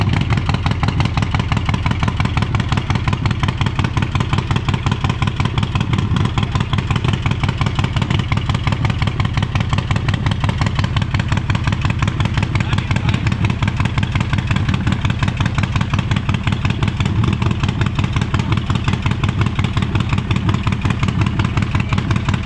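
Harley-Davidson Breakout motorcycle with a 131ci engine running steadily, a loud, close, continuous deep rumble with an even pulsing beat throughout, no voices.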